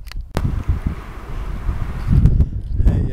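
Wind roars and buffets steadily across the whole stretch at Santa Cruz Lake, New Mexico, with low rumbling gusts that swell louder toward the end.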